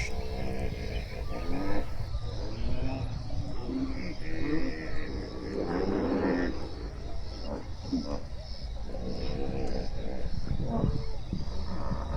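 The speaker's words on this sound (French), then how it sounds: "seulement des rugissements" Wild animals roar repeatedly in the background, a steady rumbling chorus mixed with occasional cries, heard under and between spoken voices throughout.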